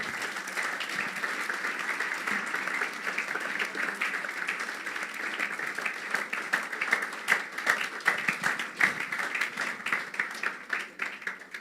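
A church congregation applauding, a dense wash of many hands clapping that runs steadily and grows a little more rhythmic and punchy toward the end.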